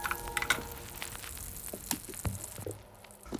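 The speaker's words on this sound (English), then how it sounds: "adding it right into that skillet, letting it sizzle" Faint crackling and popping of butter sizzling in a skillet, with scattered sharp ticks and clatters over a low, steady fry.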